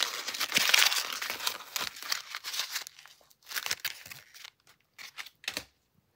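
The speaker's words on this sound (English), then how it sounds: "Okay, I'm gonna crumple it up." A DVD case crumpled by hand, crackling and crinkling loudly in dense bursts at first, then thinning into sparse, separate crunches with short silences between them.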